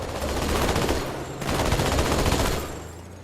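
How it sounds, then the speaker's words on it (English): Rapid automatic gunfire from the video game Halo 2: Anniversary rattles in two dense bursts separated by a brief gap, loud and close with no talking. "Apologise for Cortana being drowned out a little bit by all the gunfire"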